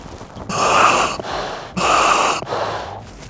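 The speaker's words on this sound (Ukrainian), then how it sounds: "нормально дихається і все працює" Breathing through a Spare Air Xtreme Sport emergency air system gives two loud, hissing inhalations through the regulator, each followed by a softer exhale, heard close and alone.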